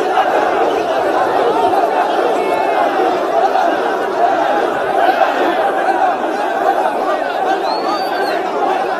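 A large crowd of Imran Khan supporters at a rally chanting political slogans after police shelling, a dense continuous roar of many voices from nearby.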